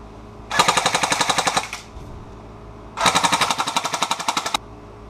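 Two loud, close bursts of rapid automatic fire from airsoft guns shooting at 400 FPS, scuffed from being dropped and dragged through dirt, each burst lasting about a second with a short pause between them.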